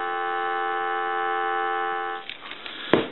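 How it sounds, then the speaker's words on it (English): A steady, continuous dial tone from a Western Electric 2500 touch-tone desk telephone hums for about two seconds, then cuts off, followed by faint clicks and a brief rustle. "Give you some dial tone."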